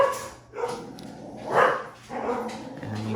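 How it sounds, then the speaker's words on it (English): Dogs give a few short barks and yips indoors, fairly close, mixed with a whimper between the louder calls. "the dogs are being idiots"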